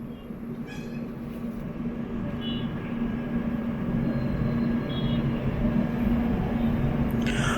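A train runs along track near Bengaluru, a steady, loud rail rumble with a constant low hum and a few faint higher squeals, continuing unbroken throughout.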